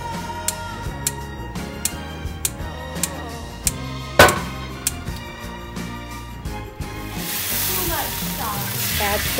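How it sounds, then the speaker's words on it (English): Wine poured into a very hot roasting pan to deglaze it, a sudden loud hissing sizzle that swells and holds after a run of sharp metallic taps and scrapes from the pan. "Add some wine to deglaze the pan."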